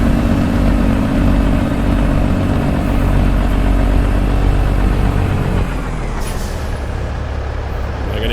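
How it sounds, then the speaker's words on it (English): A chipped 605-horsepower Cummins N14 engine in a Peterbilt 389 truck in American Truck Simulator runs a low-RPM engine brake, a loud, steady, deep rumbling drone that shifts and eases off partway through, with a brief air hiss near the end. "low RPM engine brake going."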